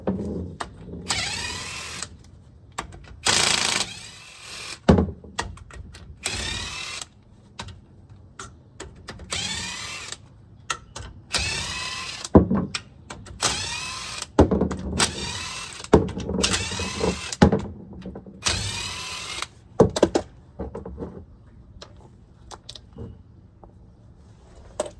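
An impact or power tool buzzes in repeated short bursts with gaps between, loosening bolts on a Dodge Ram rear axle during a seal replacement, near and fairly loud.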